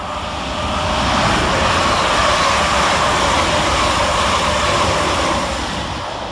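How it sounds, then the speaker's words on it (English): A pair of London Northwestern class 350 electric units pass through Stechford station with a loud, sustained roar of wheels and motors that swells in and holds steady throughout. "Next through the station for London Northwestern is 350-242 and 350-372, working 2 Yankee 59 from Northampton to Birmingham New Street."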